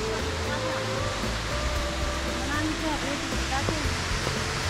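Steady roar of Jana Waterfall near Manali pouring down, a constant broadband wash that never lets up, with faint voices mixed in underneath.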